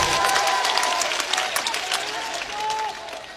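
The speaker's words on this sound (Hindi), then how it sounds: "दोनों हाथ खड़े करके जोरदार ताली बजाकर मुझे हुक्म दें।" An audience at a poetry gathering claps loudly and continuously, a dense wash of many hands with a few voices mixed in, easing slightly in the middle before swelling again.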